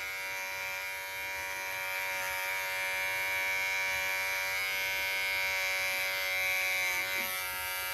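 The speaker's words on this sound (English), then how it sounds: "It's gonna be a close shave, okay, with the clippers." Electric hair clippers trim a beard and goatee with a steady, close, unbroken buzz, humming evenly for several seconds with no talk.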